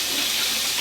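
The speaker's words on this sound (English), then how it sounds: "put it under with warm water, so it's nice and flexible when you go to use it" A kitchen tap runs warm water over a sheet of rice paper, a steady close hiss of flowing, splashing water with no talking.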